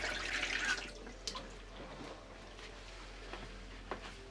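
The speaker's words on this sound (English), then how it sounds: "Just give my hands a quick wash." Hands get a quick rinse under a running tap after inky resin-art work, a soft close splash and trickle of water that fades into quieter dripping and faint movement.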